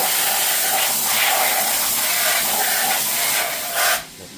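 A loud, steady hiss of compressed air blowing chips off a part held in a vise in a machine shop, continuous for about four seconds before cutting off abruptly.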